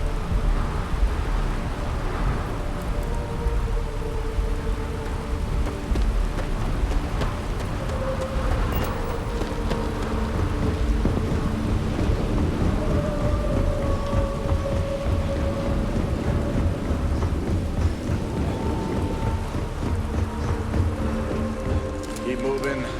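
Thunderstorm on the planet Neon in the game Starfield, with steady heavy rain and repeated rolling thunder cracks filling the scene continuously throughout, loud and close.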